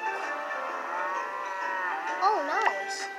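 Cow in the farming video game Township gives a long, loud, wavering moo lasting about three seconds, rich and harmonic, with a wobbling pitch near the end.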